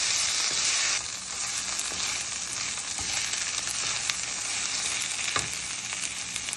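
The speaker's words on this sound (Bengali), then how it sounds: "আদা বাটা দিয়ে আমি কিছুক্ষণ একটু নাড়ব" Onion frying with ginger paste, stirred in a pan: a loud, continuous sizzle with scattered scrapes and taps of the spatula, no talking.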